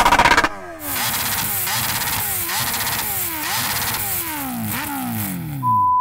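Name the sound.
superbike engine revving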